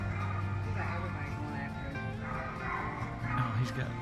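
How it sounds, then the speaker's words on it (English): Dogs at a campground yipping and barking in an excited, agitated way, with whimpering tones mixed in, moderately close and continuous over a low background rumble. "he's got some other dogs all riled up over there"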